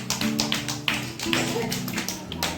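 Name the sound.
children clapping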